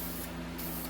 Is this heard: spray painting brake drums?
yes